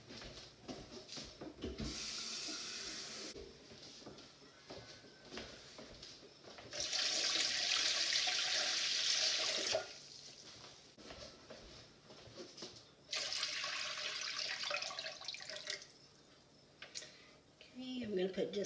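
Water pours from a tap into a pressure canner while canning chili beans, coming in three loud rushing bursts separated by quieter moments of handling and talk.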